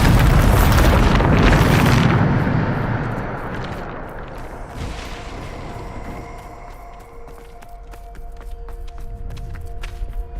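A Bombarda spell blast in the Hogwarts Legacy game erupts as a loud, deep boom, its roar fading over a few seconds into a lower rumble and game ambience.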